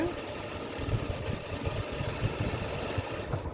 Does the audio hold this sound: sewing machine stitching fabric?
yes